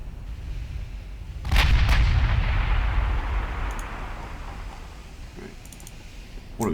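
Naval guns fire in the warship battle game Ultimate Admiral Dreadnoughts: one heavy boom and a second shot rumble away, followed by lighter clicks, with a voice speaking over the action.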